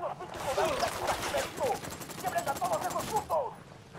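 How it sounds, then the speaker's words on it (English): Sustained automatic gunfire from the video game Ghost Recon Wildlands, rapid bursts of shots layered into a dense fusillade, under excited voices talking over the shooting. "I'm opening fire. Yeah, open fire."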